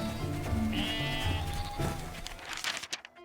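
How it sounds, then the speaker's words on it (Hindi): Sheep and goats being led to a well bleat in a loud overlapping chorus, several close, wavering calls over a busy low rumble that fades out at the end. "देख, उसकी बेटी राहेल उसकी भेड़ बकरियों को लिए हुए आ रही है।"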